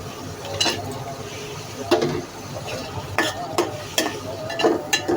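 Shrimp tossed into sizzling onion masala in a pan, with a steady fry hiss broken by sharp scraping strokes of a spatula and some clatter.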